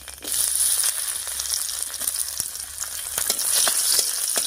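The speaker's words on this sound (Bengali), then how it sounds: "আর ফোড়ন দেব 1/2 চামচ মতো কালো জিরা, দিয়ে দিচ্ছি থেতো করা রসুন।" Nigella seeds and crushed garlic frying in hot oil, a bright, close, continuous sizzle with small crackles and pops throughout, no voices.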